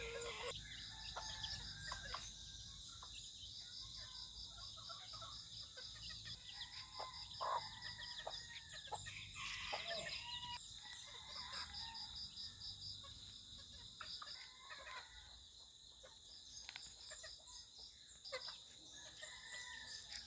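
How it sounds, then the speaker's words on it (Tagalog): Backyard chickens cluck faintly in a rural setting, with a rooster's crow rising at moments, all under a constant high drone of crickets and insects. "Sunod-sunod yung mga manok ko guys."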